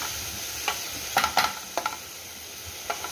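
Cut tomatoes frying in a pan give a soft sizzle, broken by several sharp scraping and clinking strokes of a stirring spoon against the pan, with no voices.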